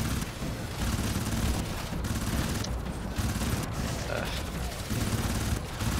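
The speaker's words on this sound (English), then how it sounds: "Machine pistol, actually." Machine pistol fire in the shooter game Crysis Warhead, dense continuous bursts of automatic shots with grunts and battle noise, loud and close throughout.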